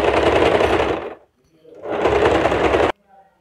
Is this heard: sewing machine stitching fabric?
yes